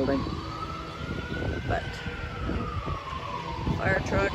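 A fire truck siren wails on a city street, rising and falling as it passes at moderate distance amid traffic noise, with a person briefly speaking over it.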